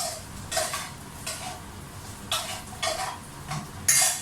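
Karuslok being stirred in hot cooking oil in a pan, with a few separate metallic scrapes and taps of the utensil over a steady soft sizzle, close by.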